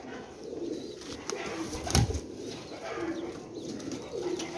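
Pigeons in a Jhelum pigeon seller's loft coo softly and repeatedly at a moderate distance, with a brief louder flutter or bump near the middle over steady low background noise.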